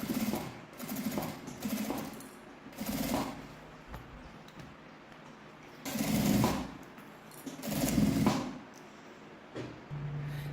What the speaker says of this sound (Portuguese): agora a gente vai passar a costura com o pé de máquina em toda a volta